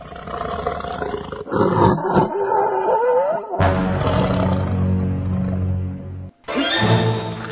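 Loud, close monstrous Giganotosaurus roars, a drawn-out growling bellow followed by deeper rumbling roars and a sharp final shriek.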